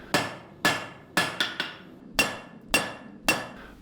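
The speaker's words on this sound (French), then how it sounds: "ce que je préfère, c'est surtout le bruit de l'enclume" Hammer blows ringing on an anvil at a blacksmith's forge, about eight sharp metallic strikes in an uneven working rhythm, each one loud and close with a short ringing decay, including a quick double tap in the middle.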